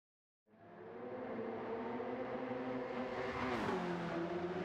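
Mercedes-AMG GT Black Series 2020 engine drifting in Gran Turismo 7, tuned with front ballast: a loud, steady high-revving roar starts after a brief silence, with a brief pitch dip and surge near the end, no talk.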